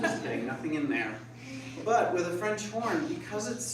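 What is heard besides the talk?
No distinct noise like a dog, phone or traffic.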